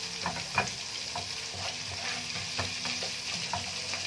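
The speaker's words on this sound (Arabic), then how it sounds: "نجيب الكوسه وننزل بيها ونقلب" Sliced zucchini frying in hot oil with garlic, a steady close sizzle with scraping stirs and utensil clinks scattered throughout, no talking.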